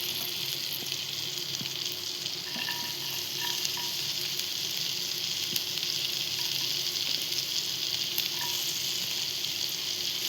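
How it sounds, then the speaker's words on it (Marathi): Garlic and green chilli fry in a pan for a sweet corn vegetable pasta, giving a steady, close sizzle with occasional soft stirring noises. "आता आपण त्यात टाकूया थोडंसं लसूण आणि हिरवी मिरची."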